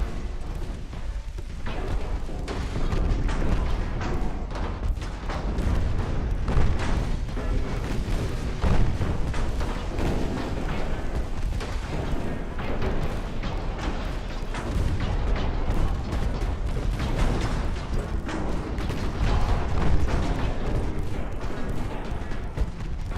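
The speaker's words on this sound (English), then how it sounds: "Another ammo detonation." Ammunition detonations and heavy gunfire boom through a naval battle in the warship game Ultimate Admiral Dreadnoughts, a dense, loud, continuous rumble of explosions and artillery blasts with no talking.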